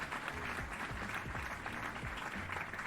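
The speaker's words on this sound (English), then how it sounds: "Can we get a round of applause?" A round of applause from an audience during a late-night interview show: steady, dense clapping that runs continuously at an even, moderate level.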